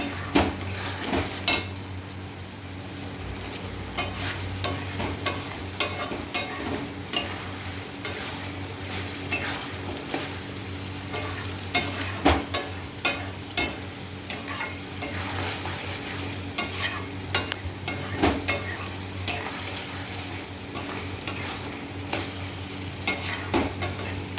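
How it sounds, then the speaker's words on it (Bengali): Sugar is stirred in a pan of sizzling mutton fat. A spoon scrapes and clinks against the metal repeatedly and unevenly over a steady frying hiss, close up and without speech. "এক চামচ চিনি দিলাম। এবার নাড়াচাড়া দেবো।"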